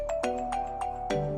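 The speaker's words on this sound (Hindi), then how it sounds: "किसका फोन है?" An electronic ringtone plays alone, a repeating melodic trill of tones pulsing several times at steady volume.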